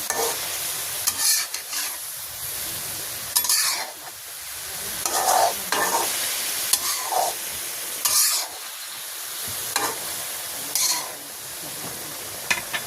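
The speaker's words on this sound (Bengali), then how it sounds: "ফুলকপিটা একটু ডলাই নিলাম" Cauliflower fries in a pan in a village kitchen, releasing water as it cooks. Loud, close stirring and scraping comes in bursts every second or two over a continuous sizzle, with occasional clanks of utensil on metal.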